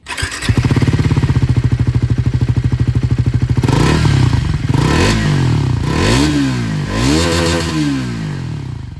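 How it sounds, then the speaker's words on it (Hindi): A 2026 Triumph Tracker 400 with a dual-barrel exhaust fires up close by into a fast, even thumping idle. It then gives several loud throttle blips that rise and fall in pitch, heard on their own. "एग्जॉस्ट साउंड में आपको सुनाऊंगा जो आप लोगों को स्क्रैम्बलर से यहाँ पर मिलता जुलता है, ये डुअल बैरल एग्जॉस्ट दिखेगा"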